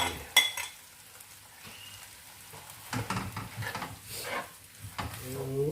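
Squid stir-fried with vegetables and hot chilies in a pan, sizzling and frying with scraping stir strokes and clatter, fairly close but moderate in level.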